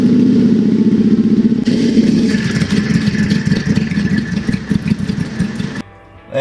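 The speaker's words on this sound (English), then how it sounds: "So I'm going to run the bike a little warm." A Triumph America motorcycle engine idles while warming up with fresh oil, a steady, close, loud mechanical rumble with fine clatter, ending in a brief drop before the sound returns.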